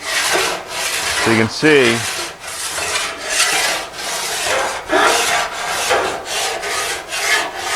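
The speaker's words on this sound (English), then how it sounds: "this is that furred file that we're using on the Ford fenders" A fine furred file rasps across an aluminum Austin Healey shroud in steady, close strokes, with brief speech over the rough rubbing.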